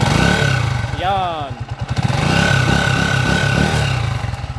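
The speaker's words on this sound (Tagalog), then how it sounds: "napakinggan nyo yung meow-meow ng timing gear niya kanina" A motorcycle engine idles with a rattling clatter from its timing gear and a whining mechanical tone, while a voice speaks briefly near the start.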